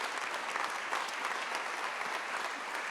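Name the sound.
audience applauding Sabrina Keller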